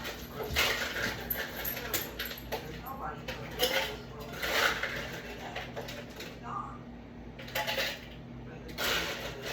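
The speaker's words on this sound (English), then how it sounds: "What are you barking about, little boy?" A small dog barks and whimpers indoors amid clinking dishes and cutlery, with a person's voice talking nearby at moderate loudness.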